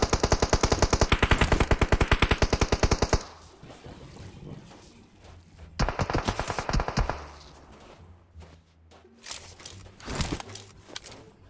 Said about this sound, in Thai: ใช่งเป็นปืนกลที่เอาไว้ยิงทีละนัด